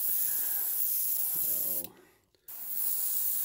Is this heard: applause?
no